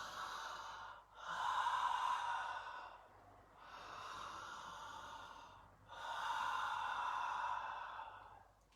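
Slow, deep mouth breathing during a breathwork session: three long, airy breath cycles, each a soft rushing inhale or exhale separated by brief pauses, close and fairly quiet with no talking.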